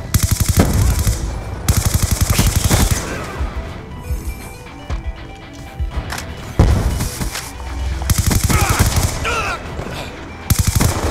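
Rapid automatic gunfire from Call of Duty Black Ops 2 on the Standoff border town map rattles in loud, dense bursts with short gaps and scattered single shots and impacts between them, close and dominant.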